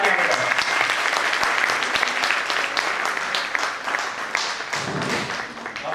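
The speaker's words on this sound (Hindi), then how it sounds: "तो एक बार आप सब अपने लिए जबरदस्त तालियां बजाओ।" Loud, sustained audience applause at a network marketing gathering, dense clapping filling the room without pause.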